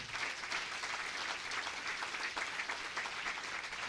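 A church congregation claps steadily and densely for a few seconds, a sustained wash of applause with no voices.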